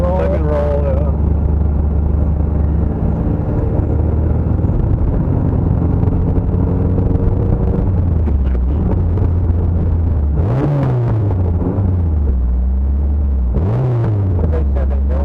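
A car engine powering through roundabout corners, a loud steady in-cabin drone that rises and falls in pitch as it revs through the bends, with people talking over it.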